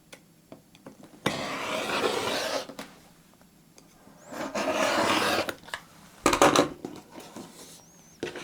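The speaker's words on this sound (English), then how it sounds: "And I'm going to trim." A rotary cutter trims a quilt block, making two longer rasping, scraping strokes across fabric on a cutting mat, close and fairly loud, with a few small clicks and taps between them.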